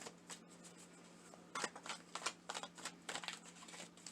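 Tarot cards shuffled and pulled in quick, crisp bursts of riffling and slapping, close and fairly quiet, with brief pauses between flurries and no talking.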